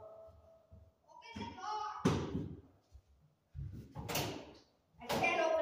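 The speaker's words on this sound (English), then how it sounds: "I can't open the door with my handle." Someone struggles to open a stuck door whose handle won't work, producing bursts of knocking, rattling and thudding between pauses, with voices talking nearby.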